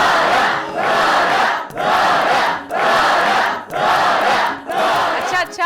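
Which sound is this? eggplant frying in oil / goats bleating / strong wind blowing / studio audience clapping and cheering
studio audience clapping and cheering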